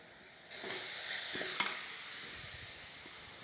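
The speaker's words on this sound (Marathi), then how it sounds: "तर तो कांदा परतून घेते" Chopped onion sautéing in a pan, a steady close sizzle with a brief stirring scrape partway through, no talking.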